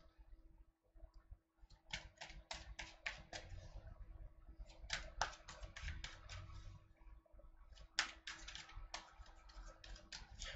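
Quick bursts of crisp, papery flicking in several rapid runs as tarot cards are riffled and shuffled close by, with pauses between runs and no talking.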